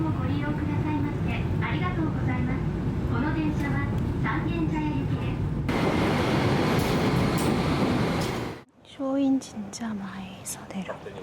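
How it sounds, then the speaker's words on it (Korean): A Tokyu Setagaya Line cat-themed tram rumbles along in Tokyo, a steady low running noise heard from inside the car, briefly swelling louder before dropping away, with soft voices over it. "드디어 타보는 고양이 트램"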